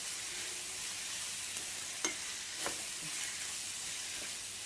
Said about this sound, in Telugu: ఒక నిమిషం వేయించుకోవాలండి బీరకాయని ఆయిల్లో.